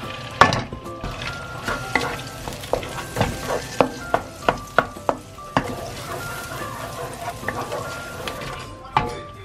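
Garlic frying in a pan for a crab dish, with a steady sizzle under frequent sharp clinks and scrapes of a utensil stirring against the pan, close and fairly loud throughout.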